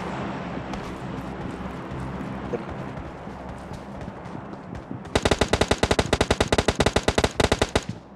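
Automatic gunfire in the mobile shooter PUBG Lite: a long rapid burst of loud shots fires in the last few seconds, following a quieter stretch of game ambience.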